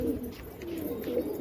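Pigeons cooing inside a pigeon house, a soft continuous low warbling coo repeating steadily throughout, close and moderately quiet, with no talking.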